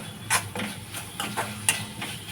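A spoon stirring ginger-garlic paste with tomato in a frying pan: soft repeated scraping strokes in an irregular rhythm over a faint sizzle, close and fairly quiet.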